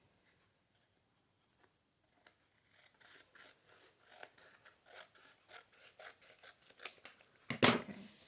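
Scissors snip through paper for a Valentine junk journal, first faint and sparse, then a steady run of crisp cuts that builds to a loud sharp rasp near the end, with no one talking.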